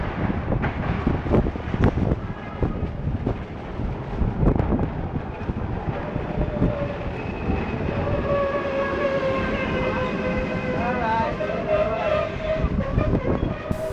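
A Melbourne tram rumbles closer and rolls past on the street, its steady wheel and motor noise rising and holding loud, with squealing tones and a brief horn-like note over city background and wind buffeting.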